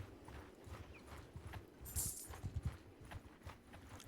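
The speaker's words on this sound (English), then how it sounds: "I did buy some horses as well just to make our party a lot faster." Horses gallop in the medieval combat game Mount & Blade II: Bannerlord, with quiet rhythmic hoofbeat clops and a brief bright jingle partway through.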